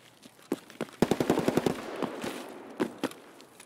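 Rapid bursts of gunfire in Escape from Tarkov, loud and sharp, with volleys of automatic shots clustered in the middle and a few isolated cracks before and after.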